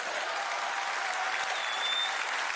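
A comedy show audience claps enthusiastically, dense steady applause filling the whole stretch without letting up.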